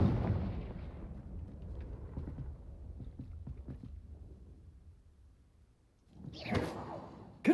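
Confringo fire spell in Hogwarts Legacy: a fading low whooshing rumble gives way to near silence, then a sharp bright burst of flame erupts near the end.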